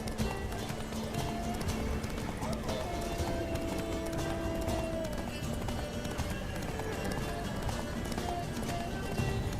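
In The Witcher 3, a horse gallops steadily with rapid, rhythmic hoofbeats throughout, set in a dense mix of game ambience.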